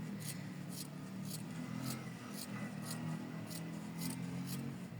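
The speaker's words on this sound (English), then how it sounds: "And then we gotta trim it with a little seam allowance." Scissors trimming sewn fabric hearts with a small seam allowance, a quick run of repeated snips at an even pace, close but quiet, over a low background hum.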